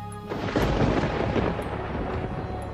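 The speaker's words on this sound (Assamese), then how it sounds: "তেনেতে বিজুলী গৰজি উঠিল।" Thunder rumbles in a ghost story, one loud, sustained boom rolling steadily for nearly three seconds with no voices over it.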